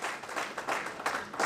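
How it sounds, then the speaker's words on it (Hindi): Audience applause in a seminar hall at a college of commerce, arts and science in Patna, welcoming a guest; dense, steady clapping from many hands, moderately loud and close, lasting throughout. "पूरे जोरदार तालियों के साथ हम डीएन साहब को स्वागत करते हैं।"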